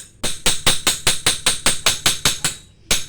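A hammer strikes a knife blade laid on a flat surface, a loud, sharp metallic tapping repeated about a dozen times in an even rhythm, then a brief pause before one more blow.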